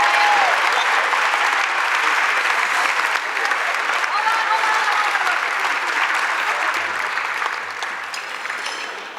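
A large audience applauds award-winning teachers at a school district Teacher of the Year ceremony, with sustained, even clapping that holds steady and slowly thins toward the end.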